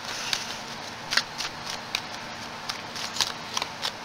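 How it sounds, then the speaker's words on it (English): A deck of tarot cards is shuffled close up, with a steady stream of light papery flicks and brief slaps repeating every half second or so, with no speech. "so we're going to keep shuffling."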